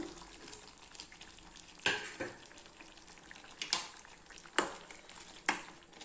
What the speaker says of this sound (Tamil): இப்போ நம்ம இந்த வறுத்து வச்சுருந்தோம் இல்லைங்களா, இந்த பாகற்காயை அப்படியே போட்டுக்கலாம்.